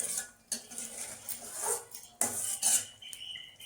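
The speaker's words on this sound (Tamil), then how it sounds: "வெண்டைக்காயை சேர்த்து ஒரு கிளறி விட்டு ஒரு 5 நிமிஷம் குக் பண்ணுங்கள்." Okra is stirred into a tamarind curry in a pot, heard as several close metallic clinks and scrapes of a spoon against the vessel, irregular and moderately loud, with no talking.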